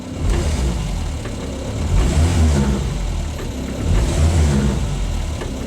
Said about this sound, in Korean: 악셀 좀 밟아 볼게요.